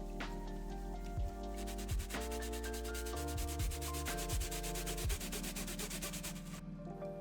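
A brush scrubs a dirty Xbox console shell with quick rhythmic rubbing strokes. The steady scratching is near and moderately quiet over a low background hum, and there is no speech.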